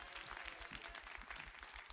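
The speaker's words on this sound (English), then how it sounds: "Can you give Pastor a hand clap?" A church congregation gives a short burst of hand clapping, fairly faint and steady, heard alone without talk.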